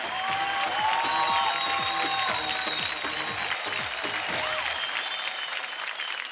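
Loud, sustained clapping from the studio audience of a televised dance competition, continuous and full throughout, with music tones running underneath.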